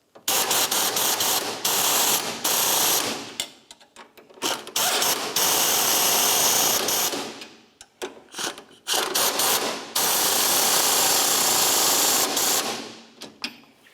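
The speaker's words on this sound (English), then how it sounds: "I'll use my 18mm on top and down bottom to tighten these." Bursts of rapid ratchet clicking come from an 18mm socket tightening the front lower ball joint bolts on a 2005-2010 Chevrolet Cobalt, loud and close, in several runs separated by short pauses.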